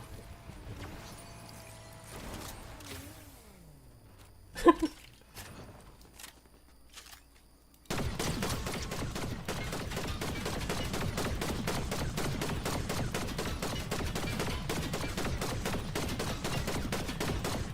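Gunfire in the Fortnite video game aimed at a vehicle's tire: scattered shots and engine noise at first, then a long, dense, unbroken burst of rapid automatic fire that stays loud to the end.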